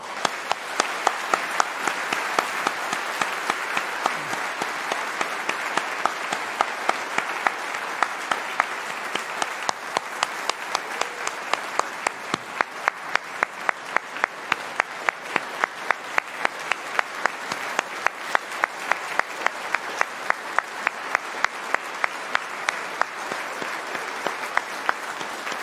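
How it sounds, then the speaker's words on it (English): An audience at a university convocation applauds graduates of a Faculty of Arts and Social Sciences. The applause is a steady, dense roar of many hands that continues at an even level for about 25 seconds, with no voices over it. "applause to these amazing graduates."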